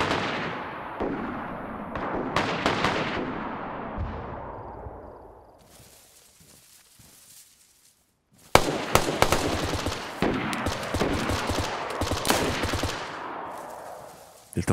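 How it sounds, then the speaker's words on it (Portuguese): Gunfire in the video game DayZ, loud rapid bursts of shots and rattling automatic fire that fade to a quiet pause, then return as dense, close volleys. "Ele tava atirando em alguém aqui, ó."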